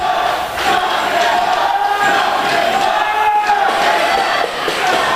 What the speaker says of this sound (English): And this crowd is fired up tonight